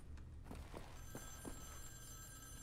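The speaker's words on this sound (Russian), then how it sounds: "Телефон звонит." A telephone rings inside the World War II shooter Wolfenstein: The New Order, a short rise of tones against steady game ambience, with a few soft thuds and no talk.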